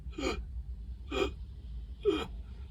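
A person imitates the rapid gasping breathing of a trauma reaction, three sharp, evenly spaced inhaled gasps close to the microphone over a quiet low background hum.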